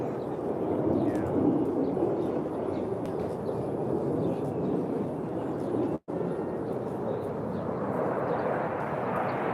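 A Blue Angels military jet flies fast near Navy Pier, producing a loud, steady broadband roar that fills the whole stretch, with a brief cut partway through.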